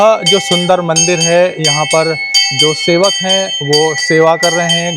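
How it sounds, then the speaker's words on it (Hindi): A temple bell rings steadily at a Jain temple near Lord Mahavira's birthplace in Nalanda, a sustained metallic tone heard under continuous close male speech. "घंटी की आवाज़ आप सुन पा रहे हैं।"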